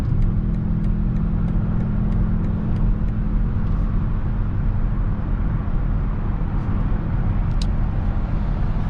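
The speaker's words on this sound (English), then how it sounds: "we're not going to be completely testing the limits of this vehicle, but you can see that it really puts on the power well" A 2021 BMW X6 M50i pulls hard on a snowy road, a steady engine drone with road roar beneath it, continuous and fairly loud throughout.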